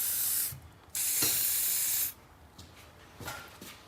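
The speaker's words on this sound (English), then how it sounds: "The key here, though, is using the silicone spray. So we're going to spray these big time." Silicone spray blasted onto the exhaust connection of a 2015+ Ford Mustang GT 5.0L, in two loud, steady hissing bursts followed by a few shorter, fainter puffs.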